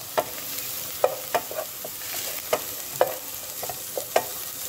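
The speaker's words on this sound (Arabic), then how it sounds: "نقليو مليح البصل نتاعنا مع السمن." Onions fry in ghee in a pot for a chicken and olive tajine, with a constant hiss broken by regular, crisp spatula scrapes and knocks about once a second.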